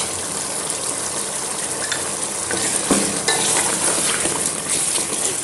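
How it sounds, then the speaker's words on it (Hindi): Masala with coriander and dried chillies being stir-fried over high heat for aloo gosht: a loud, steady sizzle with constant scraping and stirring, close up, and no talking. "अब इसकी भुनाई करेंगे हम तेज़ आंच पर। इसकी भुनाई हो रही है"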